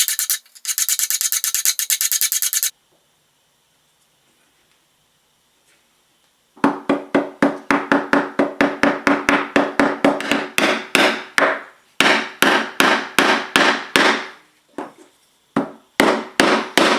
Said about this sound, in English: I'm using a combination of chisel, sandpapers, and files to remove all the epoxy that ran out of the joints